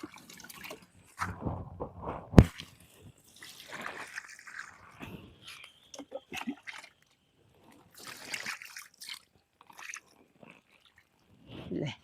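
Homemade liquid fertilizer made from rotten fruit and leftover rice water is poured onto spinach plants in a vegetable garden, giving soft intermittent splashes and trickles with a few rustles and quiet pauses between pours.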